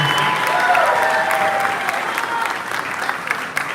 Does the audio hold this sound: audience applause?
yes